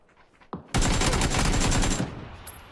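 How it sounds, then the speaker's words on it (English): Rapid automatic gunfire in a video game rattles out in one loud, sustained burst lasting over a second, preceded by a single sharp shot. "He's getting shot at."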